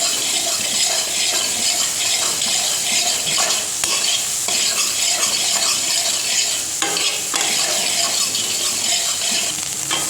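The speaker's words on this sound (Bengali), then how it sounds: "একটু হলুদ গুঁড়ো, আর সামান্য একটু কাশ্মীরি লঙ্কার গুঁড়ো, এটা দিয়ে ভালো করে ভেজে নেব" Soybean chunks fry in oil in a karai with salt, turmeric and Kashmiri chili powder, a loud steady sizzle with frequent scraping stirs running for about ten seconds, no voices.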